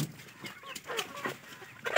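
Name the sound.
chickens clucking in poultry farm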